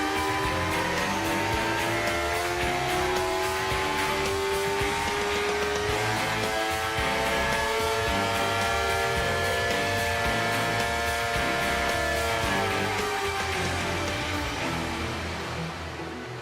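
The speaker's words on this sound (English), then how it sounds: "With the engine bolted down to a test stand, computers measure RPM, water temperatures, and fuel and air mixtures." A Suzuki GSX-R motorcycle engine bolted to a test bench runs loud and close, a sustained tonal roar that holds pitch and then slowly rises and falls in revs throughout.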